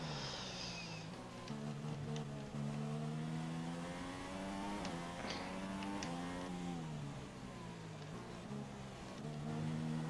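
A Formula 1 car engine in the F1 2016 video game whines steadily at high pitch, rising and falling through gear changes and throttle shifts during a race, continuous and buzzing throughout with no talk.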